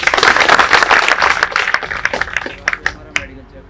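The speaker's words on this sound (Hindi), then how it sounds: "हाँ वेरी गुड, तालियां बजाओ साहब।" A group claps at an army medical test briefing, a brief burst of applause that thins into scattered individual claps within a few seconds, loud and close.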